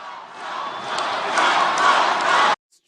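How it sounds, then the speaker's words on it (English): Rally crowd chanting in unison, a loud, sustained roar of many voices that swells over about two and a half seconds and then cuts off abruptly. "I can't tell what his crowd is saying."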